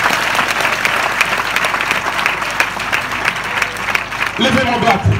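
A church congregation claps and cheers in praise, dense sustained applause filling the room while a preacher's voice carries over it.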